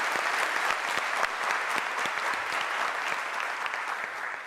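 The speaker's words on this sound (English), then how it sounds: "let's give Ntate Modise a firm round of applause" An audience at a university graduation ceremony gives sustained, even applause in a large hall, many hands clapping steadily and evenly throughout.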